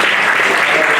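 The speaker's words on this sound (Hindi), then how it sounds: "इनके लिए एक जोरदार तालियां" An audience applauds certificate-of-appreciation winners at an award ceremony, a loud, dense burst of many hands clapping at once, heard for just a moment.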